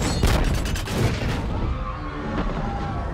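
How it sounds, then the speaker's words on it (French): Loud booming explosions from a helicopter crash in the film Godzilla, with bursts of gunfire-like cracks in a dense, chaotic mix, settling into a rumbling roar with scattered distant blasts. "puis des explosions couvertes par des cris."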